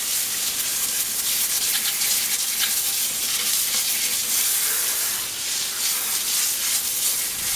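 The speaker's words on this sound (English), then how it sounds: "I'm gonna hose off the wheel, face of the wheel here" A water hose sprays the face of a car wheel and the tire, rinsing off thinner; a steady, close hiss of water runs continuously without pause.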